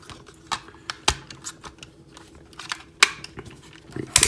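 Plastic parts of a Fans Hobby MB-08 Double Evil toy robot get folded and snapped into place, producing a string of sharp, close clicks and light rattles between brief quiet gaps.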